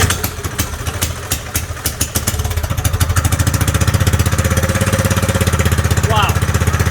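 Small kart engine on a homemade drift kart, run with no muffler, barks loud and raw after a choked start, settling into a steady rapid-firing idle rattle that fills the space up close.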